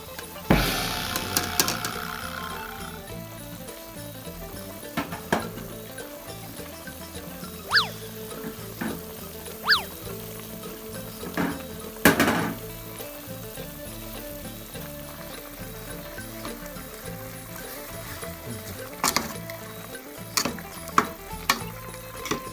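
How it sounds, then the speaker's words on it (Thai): Vegetables cooking in bubbling boiling water for Thai gaeng om chicken curry, a constant gurgling simmer punctuated by scattered clinks and scrapes of utensils, close up with little talk. "ได้น้ำเดือดที่พอดีแล้วนะครับใส่ผักลงไปได้ครับ"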